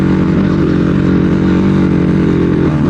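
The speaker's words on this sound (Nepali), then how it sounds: "हावा फालेको डेन्जर तान्छ त्यो बाइकले" A motorcycle labours uphill on a rough, bumpy mountain road near Muktinath, its engine loud and close with a continuous throbbing drone and clattering over the uneven track.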